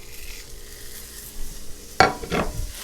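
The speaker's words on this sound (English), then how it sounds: "once you see smoke, you're going to go ahead and drop the steak on" Steak dropped onto a smoking-hot cast iron pan, with quiet background hiss giving way to a sudden loud sear and crackle in the final second, no speech.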